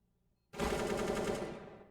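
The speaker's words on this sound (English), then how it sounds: "We do see shots ring out." Sustained automatic gunfire from a competitive video game match bursts in abruptly and rattles loudly for over a second before tapering off, with no voices over it.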